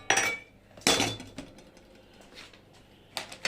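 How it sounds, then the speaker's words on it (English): Vegetables going into a pan with pork, with a few sharp metallic clatters of pots and utensils separated by quieter sizzling gaps. "I add the veggies now."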